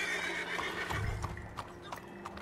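A horse in the video game Red Dead Online neighs loudly nearby, with clopping hooves and a few sharp clicks following, and no talk over it.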